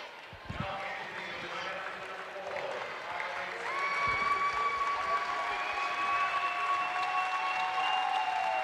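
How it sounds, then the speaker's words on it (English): Applause and cheering from Wellsville fans fill a gym at a girls' 3A state quarterfinal basketball game against TMP, a steady crowd roar that swells louder partway through while a sustained tone rings over it. "A well-deserved round of applause from the Wellsville fans behind us"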